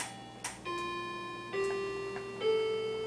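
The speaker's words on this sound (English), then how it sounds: "My grandfather clock. You hear it in all my stuff" A grandfather clock sounds indoors: three ringing, sustained chime tones are struck in turn with a few soft tick-like clicks between them, clear and fairly close in a quiet room.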